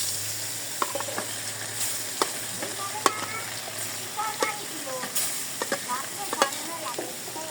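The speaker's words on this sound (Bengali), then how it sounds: "আমার টাকি মাছ ভাজা ভাজা হয়ে গেছে" Taki fish fries in a pan with a steady soft sizzle, broken by sharp clicks and scrapes as a utensil stirs and turns the pieces at irregular intervals.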